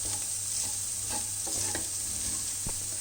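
Rice frying in butter sizzles steadily in a pan while a utensil stirs it, giving soft scraping strokes over a constant close hiss.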